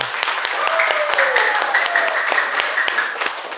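Steady applause from a crowd, many hands clapping together in a dense patter for several seconds, with voices mixed faintly underneath.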